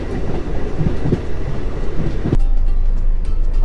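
Inside a second class coach of a local DMU train, a loud steady rumble of motion carries rhythmic clickety-clack beats from the wheels, then a sharp jolt shifts the noise to a rougher, heavier roar.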